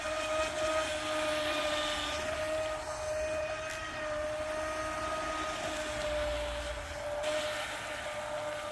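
Proboat Recoil 2 RC boat running on water, a thin, steady electric motor whine heard from a distance, fairly faint over a constant rush of wind and water noise.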